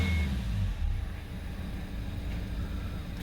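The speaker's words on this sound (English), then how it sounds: "start it up. Just about starts up, rev it" A 2015 Hyundai i30 engine with a cutting-off fault runs with a faint, low, steady rumble, heard close but quiet and without a clear rise in revs.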